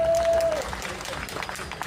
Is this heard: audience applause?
yes